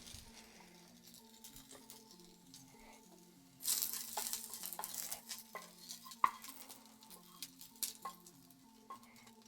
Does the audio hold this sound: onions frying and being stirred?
yes